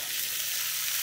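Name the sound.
pork meat sizzling as it is added to a hot pan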